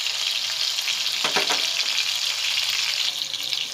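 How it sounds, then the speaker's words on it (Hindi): Chicken gola kababs fry in a pan with a steady, close, bright sizzle throughout, plus a brief burst of crackling near the middle; no one speaks. "शेप देने के बाद मैं यहाँ पे फ्राई कर रही हूँ"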